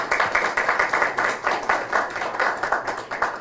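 Audience applause in a hall at an international health engineering congress, a steady run of dense overlapping claps with rhythmic surges, moderately loud and close, with no talking over it.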